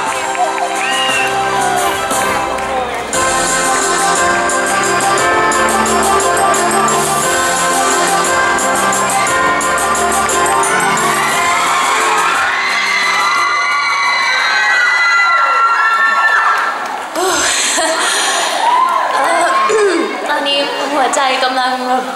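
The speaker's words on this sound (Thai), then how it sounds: "ขอเสียงปรบมือดังๆ" At the Komchadluek Awards ceremony, a large audience cheers and shouts loudly and continuously after a popular-vote winner is announced, with music playing underneath throughout.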